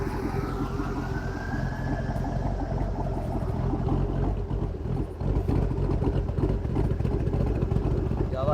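Stihl leaf blower with a cammed engine idling and revving, its exhaust giving a loud, steady low buzzing drone with a rising whine early on, close by and running continuously.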